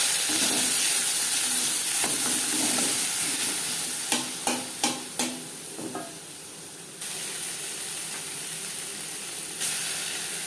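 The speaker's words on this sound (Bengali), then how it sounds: "তেজপাতা ভেজে নেওয়ার পর দিয়ে দেবো আদা বাটা, কাঁচা লঙ্কা বাটা।" Ginger paste and green chili paste frying in hot oil with bay leaf and five-spice, a steady close sizzle with a few sharp spatula knocks midway and a quieter hiss afterward, no talk.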